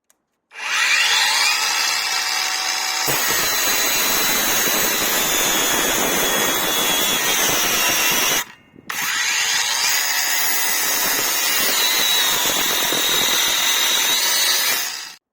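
A Parkside Performance PWSAP 20-Li D4 cordless angle grinder fitted with a thicker disc cuts through steel rebar. It gives a loud, harsh, continuous grinding whine over two long cuts with a brief break between them.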